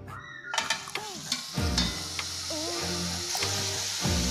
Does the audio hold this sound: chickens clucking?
no